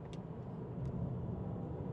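Subaru WRX TR boxer engine, all-wheel drive car weighing 3,400 pounds, heard from inside as a steady low rumble that swells slightly midway, with faint brief clicks over the drone.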